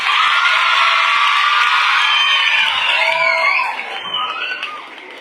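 An audience at a school event for teachers and students cheers loudly, with whoops and shouts in a dense, sustained roar that eases and thins out toward the end.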